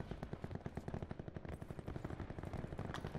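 Rapid automatic gunfire from Call of Duty: Black Ops 4 fires in a steady, fast rattle of dense shots throughout, fairly quiet and with no talking.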